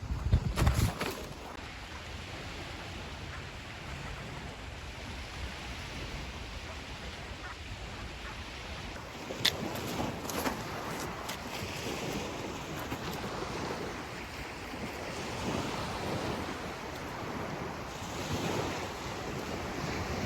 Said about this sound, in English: I don't know if you can hear me between the wind and the waves.